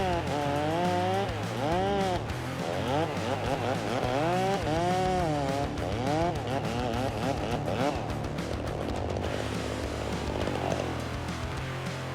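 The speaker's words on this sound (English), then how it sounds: "As the blade makes contact with the tree trunk, the chain starts slicing through, sending sawdust flying." A chainsaw cuts through a tree trunk, its engine revving up and down in repeated rising and falling surges, loud and close throughout with a constant raw buzz underneath.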